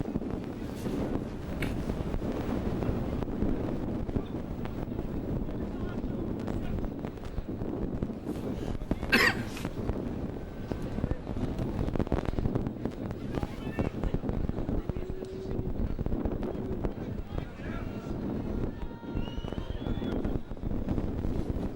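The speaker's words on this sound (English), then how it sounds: "Strong wind at his back." Strong wind sweeps across a rugby league ground during a 2002 Workington versus Whitehaven match, a steady low roar and buffeting on the microphone that persists for the whole stretch, with a brief sharper burst partway through.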